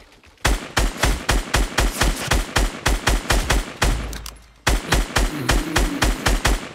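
Rapid bursts of automatic gunfire in Fortnite Battle Royale, loud and close, with evenly spaced shots in two long strings separated by a brief pause.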